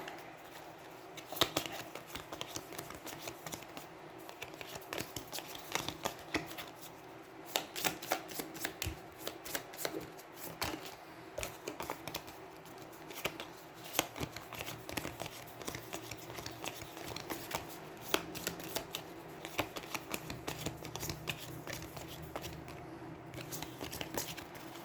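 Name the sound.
shuffling the Trog card deck in Aeons End board game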